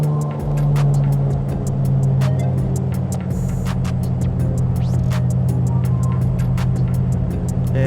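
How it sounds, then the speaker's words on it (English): Engine of a Carenado M20R Ovation single-engine light aircraft in Microsoft Flight Simulator 2020, a steady loud propeller drone with a low throbbing hum that eases slightly as the throttle is pulled back, running alone throughout. "Throttle down."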